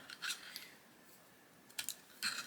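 A colored pencil is turned in a small sharpener, giving faint, short scratchy grinding bursts separated by quiet pauses, heard close up.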